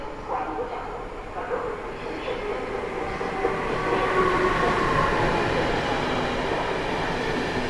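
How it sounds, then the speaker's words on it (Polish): A Vectron locomotive heads the Berlin-Warszawa Express through Warszawa Zachodnia station, a steady, close rumble of rolling wagons that grows slightly louder as it goes on. "Lokomotywa Vectron na czele składu Berlin-Warszawa Express."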